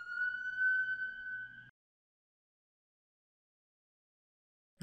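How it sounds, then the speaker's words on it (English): An ambulance siren passes along a street, a steady wailing tone that is moderately loud for under two seconds and then cuts off, leaving near silence. "ambulances in the street. There's nothing I can do."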